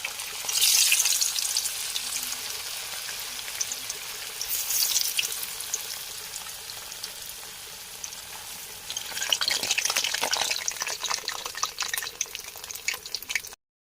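Fish fries in very hot oil, its bubbling sizzle rising in bursts and easing between them, then surging again near the end, close by and with no speech.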